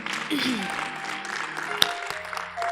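An audience claps for Apostle at a church talk, a dense, steady patter of hands that fills the whole moment, with voices mixing in underneath.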